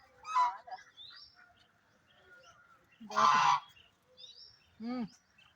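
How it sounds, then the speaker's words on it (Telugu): Loud honking calls from ducks, three separate nasal squawks spread across a few seconds, with quieter calls in between, close by. "బాతులు చూడండి ఎలా ఉన్నాయో."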